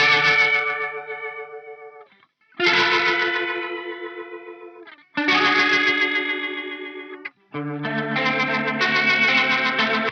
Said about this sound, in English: we add a Rotary effect, which is emulating a Leslie cabinet